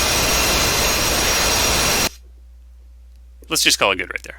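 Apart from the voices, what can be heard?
F/A-18 Hornet jet rolling to a stop on runway, DCS video game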